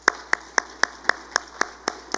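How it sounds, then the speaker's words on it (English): In a church, a small congregation claps for the fathers: about nine sharp, evenly spaced hand claps ring out in a steady rhythm, fairly quiet and close, with little else around them. "Let's give them the applause that they deserve."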